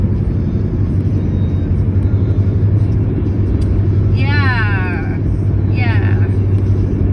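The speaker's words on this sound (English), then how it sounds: "I like driving in here, it's fun. This is a fun car to drive." Steady low engine rumble heard from inside a car driving around Brookfield, a continuous drone with road noise throughout and a couple of brief chirping sounds over it.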